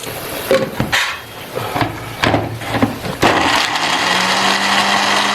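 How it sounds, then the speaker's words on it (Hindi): An electric grinder whirs loudly and steadily as it grinds almonds and cashews into a paste for mutton korma, starting after a few clattering knocks and continuing without pause to the end. "तो इन दोनों को हम ग्राइंड कर लेते हैं।"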